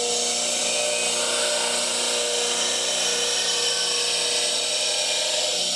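A bench grinder sharpens a traditional woodturning tool, putting a fresh burr on it with a continuous loud, steady whine and hiss of steel on the wheel throughout, close and alone.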